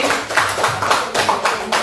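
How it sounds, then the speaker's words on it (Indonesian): A small group of people claps at the close of a school training session, a brief bout of uneven, fairly close hand claps with a loose rhythm. "Tepuk tangan untuk semuanya"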